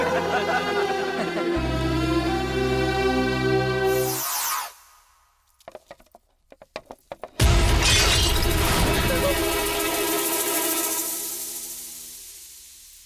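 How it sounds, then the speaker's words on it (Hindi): A glass picture frame is dropped and shatters with a sudden loud crash, followed by a burst of scattering, tinkling fragments set against dramatic music, with a brief quiet pause and tapping sounds before the crash. "फ्रेम टूट गया।"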